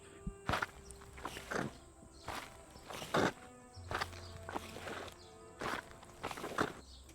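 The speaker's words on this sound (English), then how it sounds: "a distant, rhythmic thudding of footsteps reaches his ears" Rhythmic thudding footsteps, fairly faint and distant, repeating at an uneven pace over a low steady hum with no talking.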